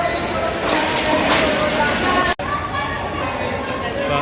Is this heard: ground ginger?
no